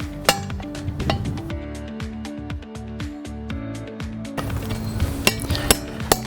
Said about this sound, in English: I'm going to get a hammer and punch.